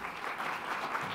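A conference audience claps after a short presentation on smoking care innovations, giving steady, moderately distant applause throughout.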